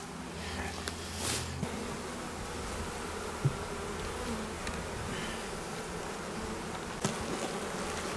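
A honeybee colony buzzes steadily around its hive at the end of wintering, a dense, continuous drone with a few individual bees flying close past now and then.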